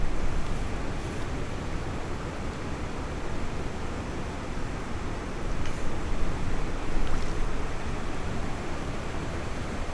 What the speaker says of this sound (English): At the waterfall now.